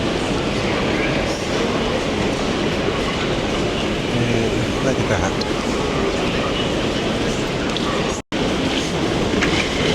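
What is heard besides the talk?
trains passing at station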